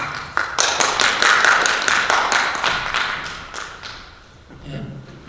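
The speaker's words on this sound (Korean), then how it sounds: "박수가 너무 좋습니다" Meeting attendees at a New York Korean church council executive committee session break into a burst of hand clapping, dense and loud for about three seconds before thinning out, with a few murmured voices at the end.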